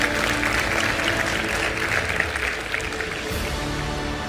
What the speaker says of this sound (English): You can clap for that, because let's go.